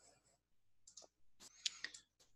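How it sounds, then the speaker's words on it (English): A computer mouse clicks while the Java JDK 12 installer is launched, with a few sharp, close clicks separated by short quiet gaps. "by just double clicking on the executable file and clicking just next"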